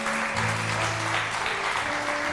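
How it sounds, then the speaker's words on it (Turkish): A studio audience on a Turkish daytime talk show breaks into steady, dense applause as a guest is seen off, loud and continuous with faint music underneath. "Alkışlarla uğurluyorum."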